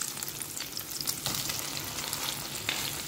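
Bitter gourd and shrimp omelette sizzles steadily in a pan over low heat, a constant close crackle of frying oil with brief louder spits, no voices.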